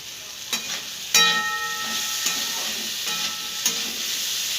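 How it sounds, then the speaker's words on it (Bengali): Potatoes frying with salt in a pan give a steady close sizzle, broken by several sharp clinks and scrapes from stirring. "এবার একটু নুন দিয়ে দিই নুন দিয়ে একটু ভাজি নুন দিয়ে দিলাম"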